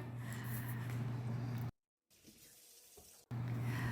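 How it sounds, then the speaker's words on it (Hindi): A kitchen tap runs steadily as hands are washed with soap after handling raw meat. The water breaks off briefly and then resumes, with muffled rubbing and splashing in the pause. "तो मैं फ़ौरन हाथ धोऊंगी साबुन से"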